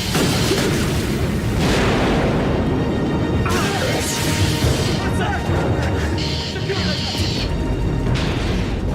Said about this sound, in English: Explosion was on the other craft, sir.